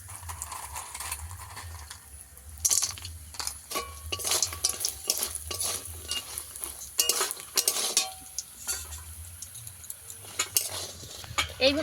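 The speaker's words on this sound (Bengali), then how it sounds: "এতে বিউলির ডালে চাল কুমড়োর বড়ি ভেজে নেব এইভাবে" Urad dal and ash gourd badi fry in a pan while a spatula stirs and scrapes, giving irregular metallic clinks and rattles over a faint sizzle, close by.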